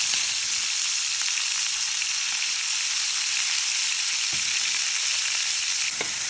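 Chopped onion frying in a pan, a steady dense sizzle with crackling throughout, close and fairly loud, with no voices.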